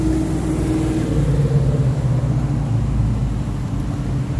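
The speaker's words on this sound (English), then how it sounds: "Oh look, there's a car." An old Dodge car passes by outdoors, its low engine rumble steady and fairly loud throughout with no talk over it.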